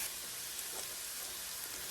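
Garlic cooking in a pan gives a steady, even sizzle throughout, continuous and moderately close with no talking.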